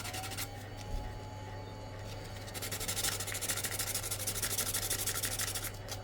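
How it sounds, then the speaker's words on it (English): Steady sanding on a costume bangle piece to flatten a bump of dried super glue, a close, continuous scratchy rubbing that grows a little louder and more rhythmic partway through, with no talking. "since the super glue has dried here, I can just like sand that area off of excess super glue"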